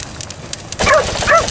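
A dog outdoors beside a crackling winter bonfire gives a couple of short, close barks or yips in the second half, after a quieter stretch of fire and background noise.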